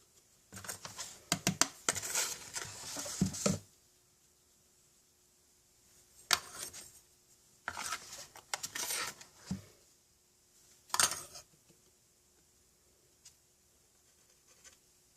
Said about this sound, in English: we'll take the clear embossing powder and sprinkle that on